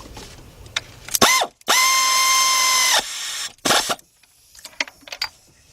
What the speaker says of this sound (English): Get our air ratchet.